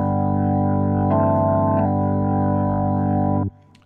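Yamaha YC stage keyboard playing a sustained Hammond-style organ chord with four drawbars and moderate pre-drive through a classic rotary speaker, a steady loud held chord with swirling modulation that changes briefly midway, then cut off at the end.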